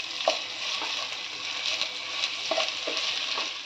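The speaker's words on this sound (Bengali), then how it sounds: "এখানে 30-35টা কাজু নিয়েছি, 30-35টা কিশমিশ নিয়েছি, নিয়ে আমি ভেজে নিচ্ছি" Cashews, raisins and grated ginger frying in hot oil in a pan, a steady close sizzle with occasional soft scraping stirs and light pops, no talking.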